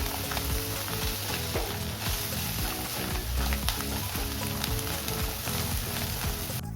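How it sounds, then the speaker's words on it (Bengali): Salted, turmeric-coated shrimp fry in oil in a Bengali kadai, a dense continuous sizzle with steady crackling throughout, close and fairly loud, with no voices. "নুন হলুদ মাখিয়ে আমি চিংড়ি মাছগুলো লাল করে ভেজে নিই।"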